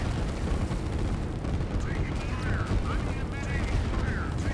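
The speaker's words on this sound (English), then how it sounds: "This is turning into more of an artillery battle." Continuous rumbling artillery barrage in a strategy video game battle, dense overlapping booms and blasts filling the whole stretch, with scattered higher chirps above the din.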